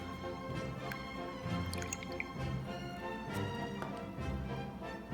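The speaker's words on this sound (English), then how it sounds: "I'm gonna rinse my brush off." A watercolor paintbrush swished and rinsed in a cup of water, giving soft close drips, splashes and light tapping against the container, continuous and fairly quiet with no talk.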